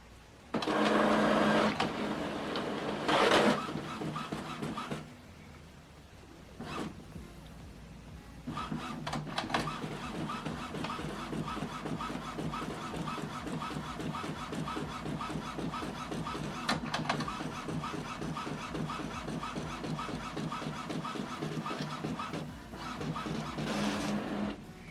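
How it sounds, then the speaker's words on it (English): An Epson printer prints a status sheet with rhythmic mechanical whirring and feeding, preceded by a few short loud bursts and pauses, fairly close. "So now this printer is going to print status sheet."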